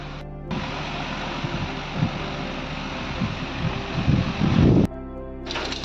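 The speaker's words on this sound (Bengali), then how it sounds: "দেখো শুধু শিলাবৃষ্টি হচ্ছে, যেটা একদমই আশা ছিল না।" A hailstorm with strong wind outside, a dense continuous roar of falling ice and gusts, with scattered heavier thuds and a louder burst near the end.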